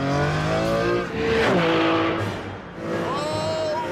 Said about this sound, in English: it still has the same 6-litre V12 engine as the Enzo